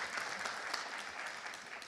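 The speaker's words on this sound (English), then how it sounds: "let's give him another round of applause" Applause from an audience at a school district's State of the District address, a steady dense patter of clapping held at an even level for the whole two seconds.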